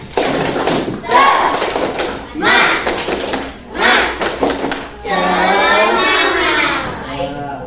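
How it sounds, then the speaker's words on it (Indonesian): Elementary schoolchildren in a classroom perform a rhythmic spirit clap: loud bursts of clapping in spaced groups, followed by the class voicing a drawn-out chant together near the end. "Tepuk semangat."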